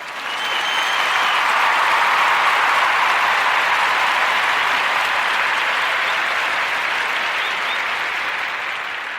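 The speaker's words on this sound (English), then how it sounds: "we definitely got to give him a clap." Full, sustained applause from many hands, a smooth uninterrupted roar of clapping that holds steady for about nine seconds and tapers slightly at the end, with no voices over it.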